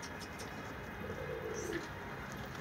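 Soft pigeon coos under a steady wash of background noise, faint and low with no voices.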